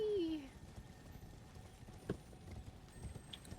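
A horse gallops in the video game Elden Ring, its hoofbeats a faint, quick clip-clop. A short whistling tone sounds at the start, and a sharper sound comes at the end.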